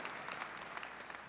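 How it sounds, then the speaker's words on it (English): Faint, steady applause from an audience at a downtown civic address by the King County Executive, a brief stretch of many hands clapping at a distance. "My first applause."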